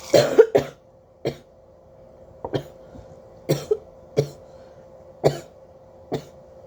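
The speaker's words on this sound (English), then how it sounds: "water or something goes down the wrong pipe and it kind of hurts, makes you cough" A string of sharp coughs from water going down the wrong pipe, a burst of several at first and then single coughs spaced about a second apart, close and loud.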